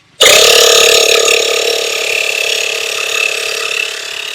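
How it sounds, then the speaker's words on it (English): A small electric tire pump inflating a Subaru WRX tire switches on abruptly and runs with a loud, steady, buzzing mechanical drone that holds nearly constant throughout, heard close up with no talking. "I have the little pump working right there. It's really loud"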